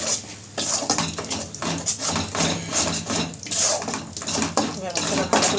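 Spice paste being stirred and sautéed in a pan for chickpea ghugni, with repeated metallic scraping and clinking of a spoon against the pan and a sizzling wash, fairly close and continuous.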